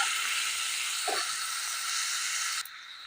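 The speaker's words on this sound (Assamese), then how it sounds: "পিঁয়াজখিনি ভালদৰে ভাজি ল'ম।" Finely chopped onion fries in a pan for a Soyabean Chana Daal recipe, giving a steady broadband sizzling hiss that cuts out abruptly near the end, with no talking.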